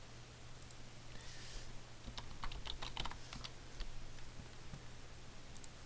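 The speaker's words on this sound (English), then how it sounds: "Type your text" Quiet, rapid clicking of a computer keyboard as text is typed, faint and close, in irregular bursts over a low steady hum.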